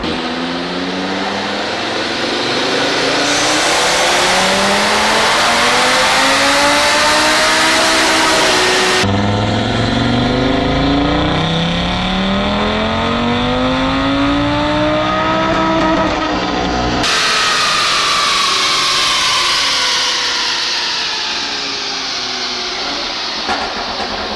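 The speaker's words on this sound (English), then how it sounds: "First dyno pull, E85 TTE700, meant for a stock block." An Audi RS3 running a Unitronic TTE700 tune on E85 with a stock engine makes a full dyno pull: a loud, close, rising engine roar that climbs through the gears with sharp drops at each shift, sustained for over twenty seconds.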